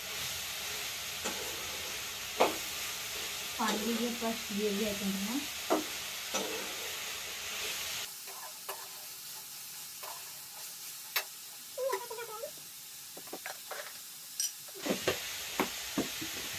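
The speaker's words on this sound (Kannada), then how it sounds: "ಬಿಳಿ ಎಳ್ಳು ಇರ್ತಕ್ಕಂಥ ತಿನ್ನು ಎಳ್ಳ ಎಲ್ಲವನ್ನು ಹಾಕಿ ಎಣ್ಣೆ ಒಳಗೆ ಒಂದು ಸ್ವಲ್ಪ ಫ್ರೈ ಮಾಡ್ಕೋಬೇಕು." White sesame seeds frying in oil for a village-style tomato chutney give a faint, soft sizzle with scattered clicks and scraping stirs, quieter in the second half.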